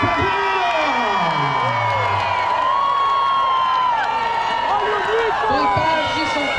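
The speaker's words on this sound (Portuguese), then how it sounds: "Vocês batem palmas aí" Crowd at a street demonstration on Avenida Paulista in São Paulo, a dense wash of cheering and whooping with voices shouting throughout, loud and continuous with no clear break.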